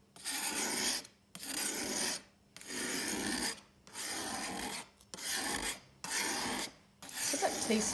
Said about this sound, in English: And then start to scrape it off.